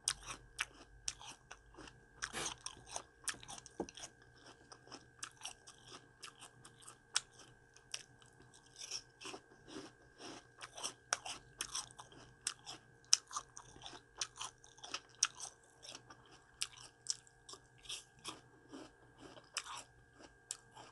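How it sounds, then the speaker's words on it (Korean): Crunchy apple pieces bitten and chewed close up, dense irregular crisp crunches throughout, loudest in quick bursts, with a faint steady hum beneath. "제가 좋아하는 사과부터 먹어보도록 할게요"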